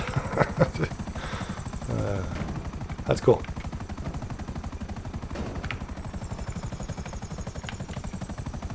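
Buckingham Akula stealth helicopter in GTA, a steady rapid rotor thump running throughout with occasional gunfire-like bursts, while someone speaks briefly over it.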